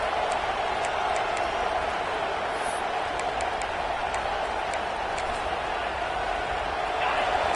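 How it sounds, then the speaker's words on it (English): Loud, full-throated football stadium crowd roaring continuously through the whole stretch, a dense sustained wall of cheering with faint whistles poking through near the top. "This crowd, full throat, splitting the eardrums"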